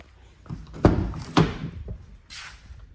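The driver's door of a 2020 Citroen Relay van opens with two quick mechanical clunks, close and fairly loud, followed by a softer rustle, with no talk.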